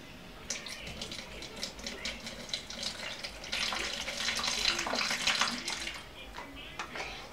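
Water poured from a container during a children's liquid flow test at home, a steady splashing, running stream that swells in the middle and trails off, close and fairly quiet with faint voices around it.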